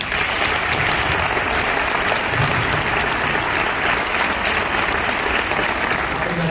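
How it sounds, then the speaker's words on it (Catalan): A crowd gives loud, sustained applause after a poetry performance at a Catalan event, a steady roar of clapping that holds at full strength throughout without pause. "demanem un fortíssim aplaudiment per la Blanca Llum i la Mireia Calafell."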